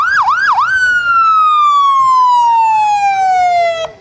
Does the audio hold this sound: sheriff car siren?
yes